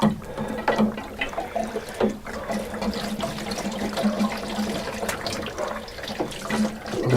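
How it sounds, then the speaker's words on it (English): Diesel fuel poured into the tank of a cheap diesel heater, a steady liquid trickle and gurgle running for several seconds at close range with a constant low hum beneath, no talking. "we'll just put a bit of diesel in for now, in case it leaks at the new connection"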